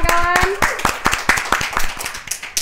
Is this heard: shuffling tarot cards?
no